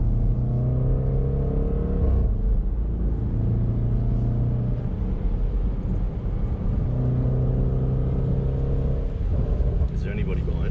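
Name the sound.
Jaguar SVR car engine revving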